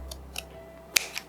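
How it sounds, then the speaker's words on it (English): Several crisp scissor snips close by cutting a painted shim, spaced irregularly, with one louder cut near the end; no talking. "first thing I'm gonna do is just cut off the tip that's all kind of jagged"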